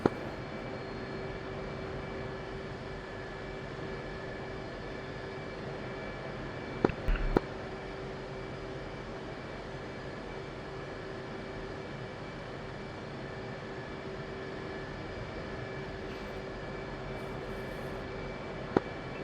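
Jet aircraft taxiing in a flight simulator combat mission: a steady, even engine whine and rumble runs throughout, with a couple of sharp clicks near the middle and a faint one at the end.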